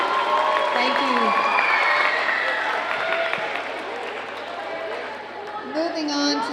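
Applause for seventh-grade social studies and civics award winners at a spring school awards ceremony, with steady clapping and crowd noise that stays full throughout and tapers slightly toward the end.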